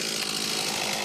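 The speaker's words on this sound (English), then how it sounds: "When the chainsaw stopped" A woodcutter's chainsaw cuts through a tree, a loud, steady, close-up buzzing whine held without a break.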